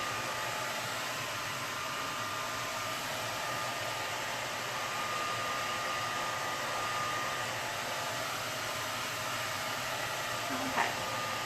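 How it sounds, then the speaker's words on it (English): A blow dryer drying a faux-concrete painted pumpkin runs continuously, a steady loud whoosh of air with a faint whine, unbroken throughout, with a brief small knock near the end. "what is she doing with the blow dryer in the dining room"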